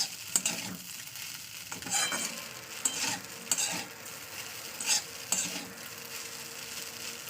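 Flattened rice pulao stir-fried in a pan, a steady sizzle punctuated by repeated scraping strokes of a spatula at irregular intervals, close and moderately loud with no talking.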